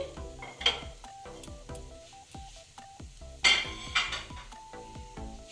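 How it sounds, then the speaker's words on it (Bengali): Metal lid lifted off a cooking pan while preparing a mung dal breakfast, bright metallic clanks and knocks of cookware over a low sizzle, close and moderately loud, no talking. "দশ মিনিট বাদে আমি ঢাকাটা খুলে নিচ্ছি"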